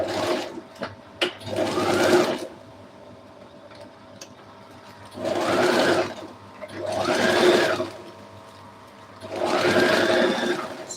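A sewing machine stitches a gathered dress in three bursts of steady, close whirring, each a couple of seconds long, separated by quiet pauses with faint handling noise.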